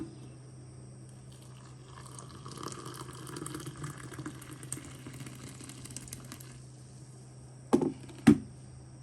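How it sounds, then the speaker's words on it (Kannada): Hot water is poured onto filter coffee powder as a faint, steady trickle, followed by two sharper knocks near the end. "ಕಾದಿರುವಂತಹ ನೀರನ್ನು ಹಾಕ್ಕೊಳ್ಳೋಣ"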